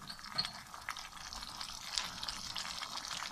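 Onion and tomato puree fries in a pan as spices go in, making a soft, continuous sizzle broken by light scraping and stirring clicks, fairly quiet and without talk.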